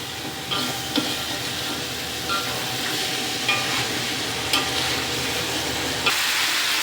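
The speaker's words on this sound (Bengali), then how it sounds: "আমরা ভালো করে মশলার সাথে ভেজে রাখা আলু, ভেজে রাখা ফুলকপি মিশিয়ে নেব।" Fried potatoes and cauliflower stirred into a cooked spice paste in a hot pan, a continuous sizzle and hiss with periodic scraping clinks of the spoon against the pan, close and steady, with no talking.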